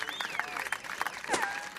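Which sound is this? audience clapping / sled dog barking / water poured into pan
audience clapping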